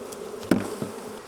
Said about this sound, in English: So now we're going to tap the bees out of this box.